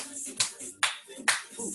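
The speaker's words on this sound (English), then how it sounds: "Back to slapping and clapping." Three crisp, evenly spaced hand slaps and claps in a seated yoga class, close and fairly loud, with soft shuffling and quiet background sound between them.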